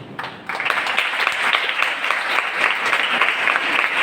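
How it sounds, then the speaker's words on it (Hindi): Audience applause at a gratitude ceremony honouring a woman, dense steady clapping from a large crowd swelling in after a brief quieter start and holding loud and continuous throughout. "please a round of applause for Seema सनब्रा"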